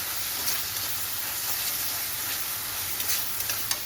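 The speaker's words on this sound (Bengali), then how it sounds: "মশলাটা খুব সুন্দর ভাজা হয়ে যাচ্ছে" Spice paste fries in oil for a pointed gourd (potol) curry, producing a continuous close hiss and sizzle with occasional small pops and stirring clicks.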